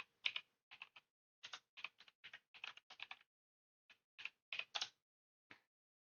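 Clicky keystrokes on a computer keyboard arrive in short clustered bursts with brief pauses between, close and isolated against near silence.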